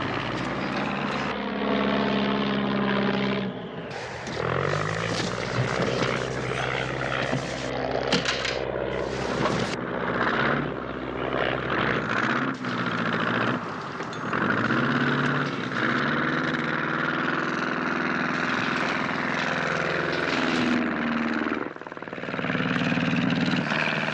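A small propeller airplane engine drones loudly and steadily in flight, a constant close engine roar filling the whole stretch with slight wavering in pitch and no voices.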